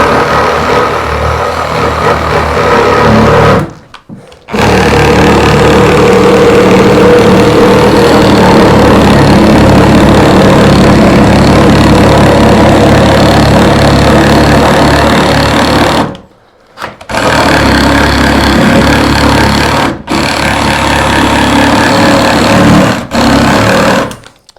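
A power tool saws the tongue off a wooden floorboard, a loud continuous buzzing cut broken by a few short pauses, with no talk over it.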